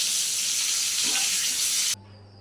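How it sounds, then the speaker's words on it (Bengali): Pointed gourd pieces fry in oil with a loud, even sizzling hiss that runs steadily, then cuts off abruptly near the end, leaving a low hum. "এরকম পটল ভেজে তুলে নিলাম।"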